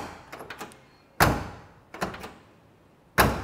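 Door of a 1969 Chevrolet Camaro being shut three times in a row, each a solid, close thunk preceded by faint latch clicks, heard alone without talk.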